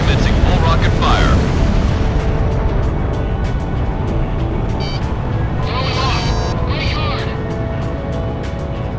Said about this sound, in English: Garuda 1, commencing full rocket fire.